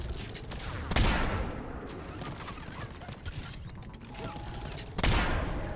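Sniper rifle fire in the Mass Effect 3 video game, two sharp booming shots a few seconds apart over a rumbling battle backdrop with scattered mechanical whirs and faint distant gunfire.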